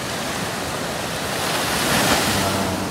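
Open-sea waves roll in at a hidden rocky beach on the Pacitan–Trenggalek border, a loud continuous roar of surf with wind buffeting, swelling slightly toward the end, no voices.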